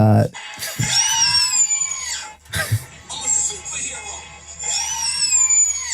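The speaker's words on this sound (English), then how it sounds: "that was her screaming to the part at the end of the song when he's like having that mental freak out" A child screams along to the frantic closing section of a song, the shrill, sustained cries rising and falling across the clip, loud and close, with a brief break partway through.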